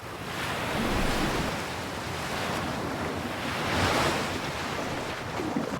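Ocean surf crashes on a beach where hatchling turtles reach the water, a continuous broad roaring wash of waves with swells building and receding, mixed with wind noise and no voices.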